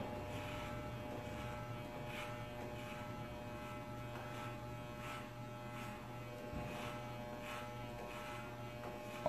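An electric hair clipper running steadily as it cuts a fade haircut, a constant low buzzing hum with faint rhythmic brushing passes over the hair, moderately quiet and close.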